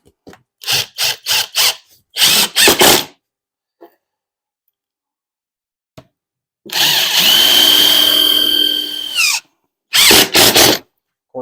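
A power drill drives screws into metal wall sheeting during a shop build. Short close bursts of whirring alternate with pauses, then one long grinding run on a stubborn last screw, followed by two more brief bursts.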